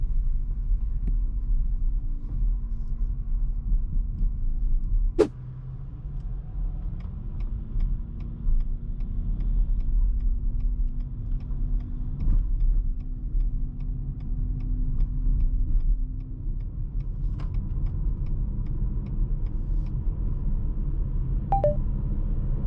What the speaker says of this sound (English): Acceleration in casual city driving is extremely satisfying. Electric motor is our main source of power, up to 40 km per hour.